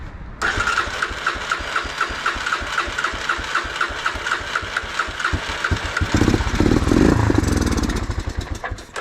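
A Honda FourTrax ATV engine, fired for the first time in years, cranks with a rhythmic starter chug for several seconds. It then catches into a louder, rougher running roar before easing off, close by and without talk.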